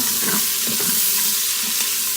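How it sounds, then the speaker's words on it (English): Onion, celery and garlic sear in oil inside an Instant Pot, giving a loud, continuous close sizzle broken by faint scrapes and stirring taps. "So let those sear around"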